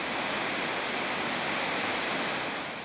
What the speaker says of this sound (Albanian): Prurjet e ujit në lumin drini i bartë e kanjoni, por dhe gjatë gjithë shtratit janë të mëdha